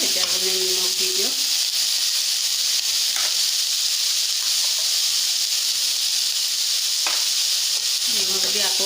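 Banana stem (pasala) frying in a pan over a low flame gives a steady, close sizzle with a soft hiss that runs throughout, while a person speaks briefly at the start and again at the end.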